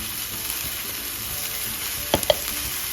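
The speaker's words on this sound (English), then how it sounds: "Once the vinegar starts boiling, you can add 2 teaspoons of regular chili powder" Chili powder hits boiling vinegar being prepared for peach pickles, giving a steady close-up sizzle and bubbling hiss with a couple of sharp knocks near the end, and no talking.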